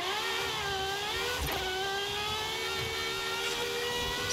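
A car in the racing game Forza Horizon 5 drives at high speed, its engine whining in a steady, loud tone that climbs and dips slightly through gear changes, alone without talk.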